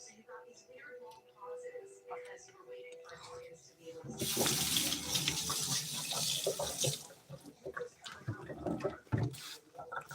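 Mountain water runs from a tap in a bathroom, a steady close rush that starts partway through and continues loud and broadband, easing slightly near the end.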